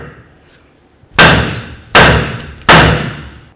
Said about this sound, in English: Use your hammer, separate this area.